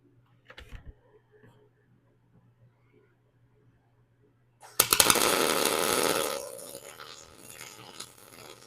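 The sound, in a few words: wire-feed welding on steel plate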